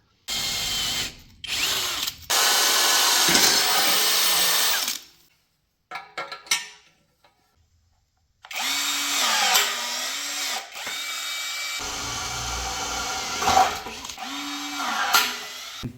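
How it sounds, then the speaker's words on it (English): A power drill boring a hole for a bracket in the chassis of a fire-damaged 2025 BMW G60, loud and close, running in several long bursts with brief pauses and the motor whining as it speeds and slows. "now we just have to drill the second hole"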